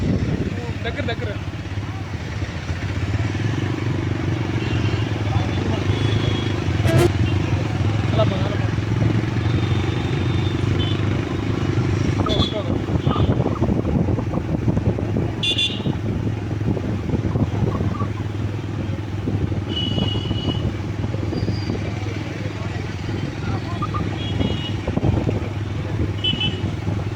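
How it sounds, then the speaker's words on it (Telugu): Motorcycles ride in a Har Ghar Tiranga bike rally in Palasa, engines droning and revving continuously, mixed with shouting voices and crowd chatter. "అవగాహన కల్పించడం కోసం హర్ ఘర్ తిరంగా బైక్ ర్యాలీ నిర్వహించడం జరిగింది"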